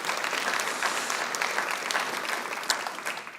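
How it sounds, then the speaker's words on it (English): An audience at a county community awards event applauds, giving steady, moderately distant clapping that continues evenly for a few seconds, with a couple of sharper claps near the end. "Give yourselves a round of applause,"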